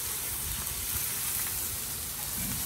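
Food with green onion sizzles steadily on a new flat top grill, a continuous broadband hiss that stays loud and even throughout with no pauses, heard close up.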